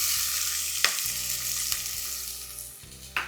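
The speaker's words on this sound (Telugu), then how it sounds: "ఒక నాలుగు లవంగాలు రెండు యాలకులు దాల్చిన చెక్క ఇందులో మనం ఫస్ట్ వేసేసుకొని సన్నగా తరిగి పెట్టుకున్న ఉల్లిపాయలు వేసుకున్నాం" Chopped onions frying in hot oil with cloves, cardamom and cinnamon for aloo kurma, a steady close sizzle with a few brief stirring scrapes and no talk.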